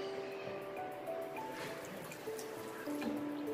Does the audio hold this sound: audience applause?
no